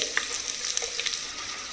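Chopped onions dropped into hot oil while mutton liver fry is being cooked, a close hiss of sizzling with a few faint clinks and stirring scrapes, no talking.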